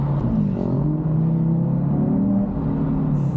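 A stage 3 tuned Audi RS3 pulls hard in a rolling launch, its engine a loud, sustained rumbling drone from start to finish, heard close and steady with no talk over it.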